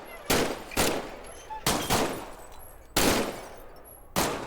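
Single pistol shots ring out in the game Medal of Honor: Above and Beyond, six loud close reports spaced unevenly about half a second to a second apart, each followed by a short decaying echo.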